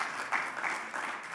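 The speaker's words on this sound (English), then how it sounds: "that applause goes directly to the staff and the team that have put this conference together" A conference audience applauds at a plenary session, a brief stretch of scattered, moderately distant clapping heard at low volume.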